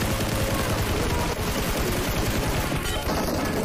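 Sustained video game gunfire during a competitive match, dense rapid shots running continuously and loud throughout, with no talk over it.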